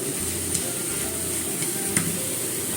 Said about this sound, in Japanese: 卵と小松菜炒めしました。